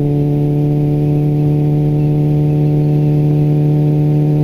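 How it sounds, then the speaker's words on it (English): Motorcycle engine running steadily while riding, a loud constant droning hum with strong low harmonics and no change in pitch, alone without talk. "I like the way my bike sounds right now"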